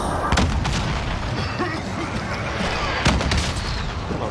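An artillery strike in the Warzone battle royale game, with dense, loud rumbling blasts and booming impacts rolling continuously, a few sharper cracks near the start and past the midpoint.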